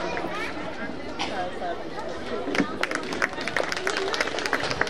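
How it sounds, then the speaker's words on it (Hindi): At AD Public School's Mother's Day event, the audience applauds the founder. Scattered hand claps build into fuller clapping over crowd chatter and voices in a busy hall. "एक बार जोरदार तालियां बजाएं हमारे साथ फाउंडर सर के लिए।"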